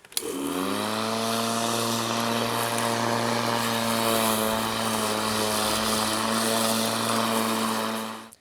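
A battery-powered electric lawn mower spins up its motor, a tonal whine rising in pitch and then holding a steady, fairly loud hum for several seconds before cutting off. No one speaks.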